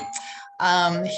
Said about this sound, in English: sorry about the doorbell